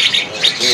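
A green leafbird sings a few bright, high chirping phrases, close and clear, with faint background murmur of a bird market.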